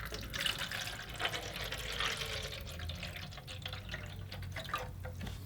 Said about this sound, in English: let's go ahead and put some water in here.